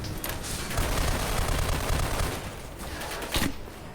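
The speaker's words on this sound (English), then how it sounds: "saw him fire the M203." Video game combat with M203 grenade launcher fire: a loud, dense barrage of gunfire and booms that runs without a break through the whole stretch.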